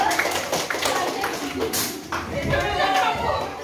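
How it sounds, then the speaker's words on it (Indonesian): A classroom audience gives a round of applause, with scattered hand clapping mixed with voices and chatter throughout. "Tepuk tangan untuk kita semua dulu."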